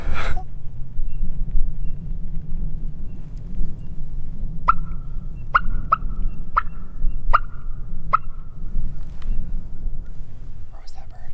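Distant Merriam's wild turkey gobbling in ponderosa pine country in South Dakota, a run of about six sharp, far-off gobbles spaced a second or so apart over a steady low rumble.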